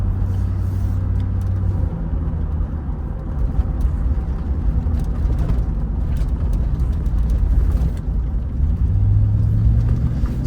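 Classic Range Rover V8 on the move, a loud continuous low engine and road rumble with a shuddery ride and occasional deeper drone swells, no voices.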